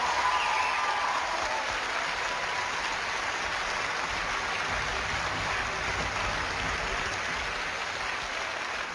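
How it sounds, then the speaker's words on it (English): Studio audience applause at a live paranormal investigation broadcast from a historic hall, steady and full, with a dense wash of clapping that holds at an even level for the whole stretch. "Give them all a round of applause as they leave to join our team."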